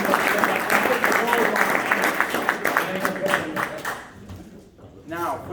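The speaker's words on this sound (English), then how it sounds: "Now I'd like to give a round of applause to our timer of the day, JQ." Audience applause at a Toastmasters meeting, a dense burst of clapping that tapers off after about four seconds, with talking mixed in near the end.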